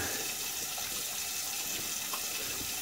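A synthetic Uber Soft shaving brush is rinsed under a running tap, giving a steady, even rush of water close by with no talking.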